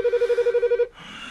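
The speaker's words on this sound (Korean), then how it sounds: "핸드폰." A cellphone rings with a rapid electronic trill of evenly pulsed beeps, loud and close, then cuts off abruptly, leaving a quiet room hum.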